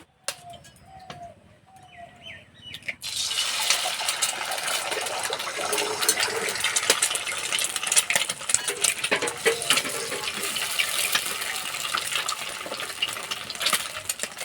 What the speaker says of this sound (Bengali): দুটো ডিম ভেঙে দিয়ে দেব